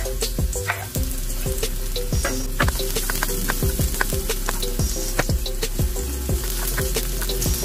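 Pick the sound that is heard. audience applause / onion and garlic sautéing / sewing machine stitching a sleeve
onion and garlic sautéing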